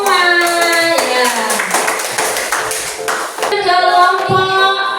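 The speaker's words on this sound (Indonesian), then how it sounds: "Terima kasih, tepuk tangan semua." A classroom of fifth graders claps hands together in brief rounds of clapping, heard alongside sustained tonal sounds like singing or chiming over the room.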